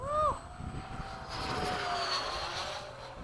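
Hobby King Avios 90mm MiG-17 model jet flying past at an airfield, a rising and falling turbine whoosh at moderate distance, with people talking over it and a brief chirp at the start.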